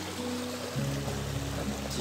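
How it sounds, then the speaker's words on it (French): River flowing past the end of a pasture, a steady close rushing wash of water with a low constant hum underneath, no voices. "La rivière qui passe juste là"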